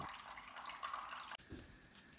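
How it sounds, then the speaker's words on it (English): Ginger juice poured into a pan for a palm sugar syrup, giving a soft continuous liquid trickle and splash, close and fairly quiet, with a brief break partway through. "So pour the ginger juice carefully onto the pan."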